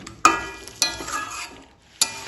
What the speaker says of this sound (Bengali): এবার চিকেনটা কষাবো